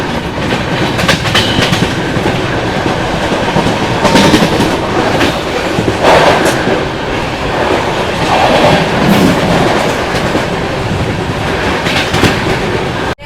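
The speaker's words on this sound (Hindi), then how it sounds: "ट्रेन निकली है और हाल क्या ओवरटेक मार रहे हैं हम लोग गोरखपुर LTT एक्सप्रेस को" The Gorakhpur LTT Express passing alongside while being overtaken, a loud sustained rumble and clatter of railway wheels that rises and falls with rhythmic clicks, and no voices.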